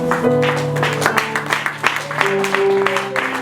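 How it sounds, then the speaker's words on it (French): A church congregation at a pastors' consecration ceremony claps and cheers in acclamation, a steady crowd roar with mixed voices and a sustained sung or shouted tone underneath. "On acclame très fort le Seigneur."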